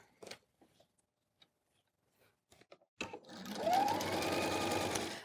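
Close up, a sewing machine stitches a shirt collar, starting after a few soft handling clicks and then running in a steady, even whir for about two seconds.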